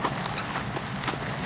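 Horse hooves clip-clopping in a quick, steady run of hoofbeats, moderately loud and close, with no voices over them.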